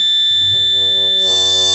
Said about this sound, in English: beeping like crazy, so not quite on